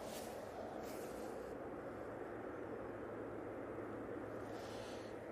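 Lufthansa airliner departing Manchester Airport, a distant, steady broadband jet roar that holds at a constant level throughout without any voices.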